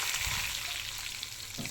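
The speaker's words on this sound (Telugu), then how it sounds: "ఎండుమిరపకాయలు కరివేపాకు వేసి" Dry red chillies and curry leaves crackle and sizzle in hot oil after mustard seeds, a tempering for an old-style lemon and green chilli pickle, heard as a steady close hiss with small pops.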